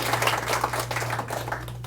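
Audience at a town hall meeting in a café breaking into applause, a steady crackling mass of many hands clapping with a low hum underneath and no speech.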